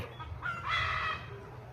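Chickens call nearby, with one brief crow-like squawk rising over quiet clucking and a faint low background hum.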